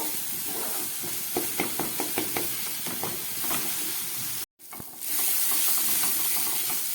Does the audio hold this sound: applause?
no